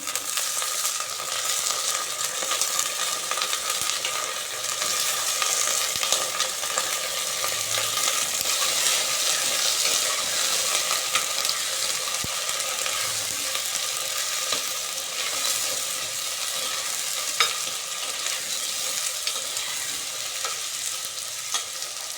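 Eggplant sizzling and frying in a pan, a steady crackling hiss with occasional stirring, no voices.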